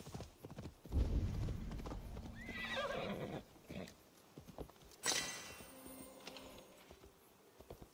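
Horse hooves clip-clop steadily in Assassin's Creed Valhalla, with a whinny partway through and game ambience around the footfalls.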